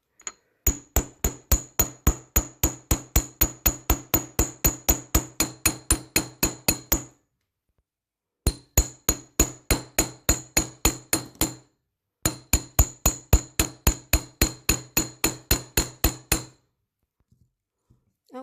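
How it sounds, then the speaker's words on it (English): A hammer strikes wire rapidly and steadily on a hard surface to flatten it for beaded paddle earrings, three long bursts of sharp, evenly spaced metallic taps separated by short pauses. "we'll flare it out a little bit more with the ball peen part of the hammer"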